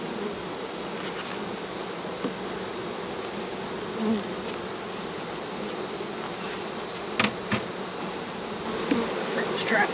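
Honey bees swarm around an open beehive as frames are inspected, a dense continuous buzz filling the whole stretch, with a few soft knocks and handling sounds near the end.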